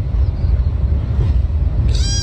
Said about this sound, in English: Kitten's meowing